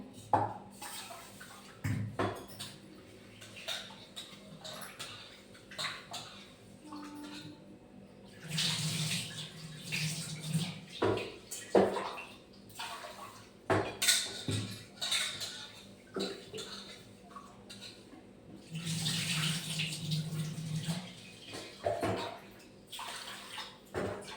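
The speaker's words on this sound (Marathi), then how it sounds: "तर आता छान असं तांदूळ धुवून टाकणार आहे." Rice is washed by hand in water, with intermittent bursts of running tap water, swishing and splashing, and occasional clinks of a vessel, alternating with quieter stretches of drips and handling.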